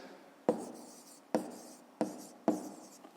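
A pen writes a maths answer on paper, four sharp taps each followed by a short scratchy stroke, evenly spaced and close, with no voices.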